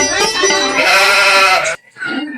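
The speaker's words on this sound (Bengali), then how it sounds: "এদিকে আবার দেখছি গরু ছাগল ভেলাচ্ছে, গরুর পেটেও কিছু নাই, ছাগলের পেটেও কিছু নাই।" A goat on a village farm gives a loud, close, drawn-out bleat lasting well over a second, followed after a short gap by a quieter second bleat.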